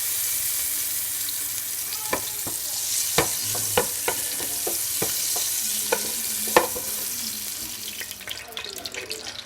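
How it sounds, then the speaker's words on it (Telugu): Eggs fry with turmeric in a pan for egg biryani, giving a steady close sizzle punctuated by sharp clinks of a utensil against the pan, with no talking. "ఎగ్స్ ఫ్రై చేసి తీసుకున్నాం కదా"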